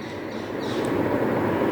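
A train rolls through dense forest and a tunnel in Coorg, Karnataka, producing a continuous close rumble of wheels and carriages that builds slightly, with faint high chirps above.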